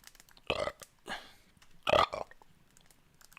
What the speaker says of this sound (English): Pizza burps.